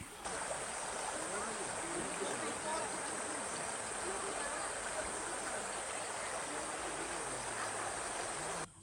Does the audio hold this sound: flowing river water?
yes